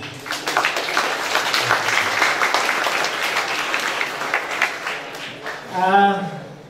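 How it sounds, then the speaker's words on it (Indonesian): Audience clapping for students at a motivational speech, a fairly close wash of hand claps that carries on for several seconds, with a brief voice rising at the end. "Tepuk tangan untuk para santri kita."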